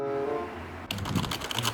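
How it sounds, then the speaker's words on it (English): Rapid clatter of computer keyboard keys after a moment of music, with dense, uneven keystrokes that sound close and fairly loud. "It's crazy how you could type all those keys and only end up with 3 letters."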